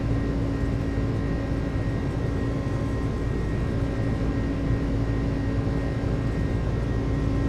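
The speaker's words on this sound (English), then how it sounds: "Takeoff power set." FedEx airliner engines spooling at takeoff power in Microsoft Flight Simulator, a steady, loud jet roar with a constant tonal whine layered over it, unchanging for several seconds with no voices.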